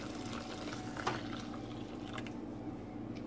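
Three cups of warm water pour steadily onto oats for Ethiopian oatmeal atmit, a continuous close splashing rush with no talking.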